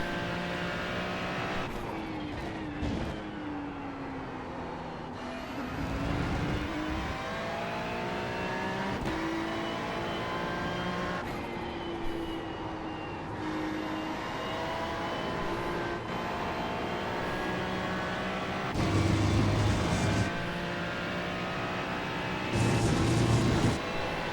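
A Ferrari race car engine drones steadily at Road America in a racing video game. Its pitch climbs and drops through gear shifts, and short harsh bursts come near the end.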